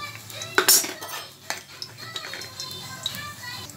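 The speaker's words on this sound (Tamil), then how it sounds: "இப்போ எண்ணெய் காஞ்சிருச்சு, பட்டையில் அதுக்கப்புறம் ஏலக்காய், லவங்கம், சாஜீரம் அண்ட் எல்லா மசாலா ஐட்டம்ஸ்." Whole spices such as cinnamon, cardamom, cloves and cumin go into hot oil in a cooking pot for biryani, with sharp metallic clinks and scrapes of a utensil stirring against the pot, uneven and close.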